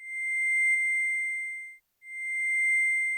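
A pure, soft wavetable tone from a Sonicware ELZ-1 synthesizer sustains, cuts out briefly, then returns at the same steady pitch, clean and electronic with no other sounds.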